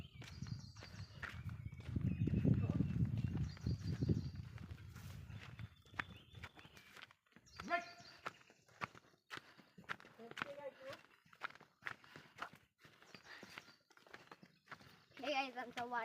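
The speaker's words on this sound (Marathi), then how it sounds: "आता वाड्यात जात आहेत बैल." A pair of white bulls walk toward their shed, hooves clip-clopping in an uneven rhythm at moderate distance, mixed with other farmyard noises and people talking in the early part.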